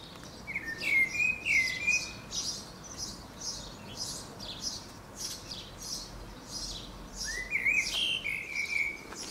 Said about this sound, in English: there's a few birds singing